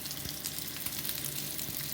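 Chicken seekh kebab sizzles steadily in a grill pan, a dense, continuous frying hiss with faint crackles throughout, close and alone without voices.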